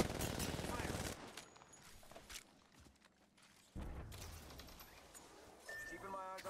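Bursts of gunfire in the Apex Legends battle royale shooter come in rapid volleys at the start, then quieter stretches follow with scattered shots. A louder burst returns near the end, mixed with game sounds and a player's voice.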